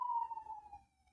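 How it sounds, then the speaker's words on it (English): Police siren rolling past outdoors, a single falling wail that fades steadily over about a second, fairly faint and distant, with low rumble underneath and no speech. "So that's probably the police rolling by now. You hear the sirens."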